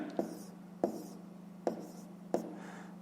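A pen marks down a fraction during a math lesson, with four short, soft scratching strokes spaced evenly over a quiet steady hum.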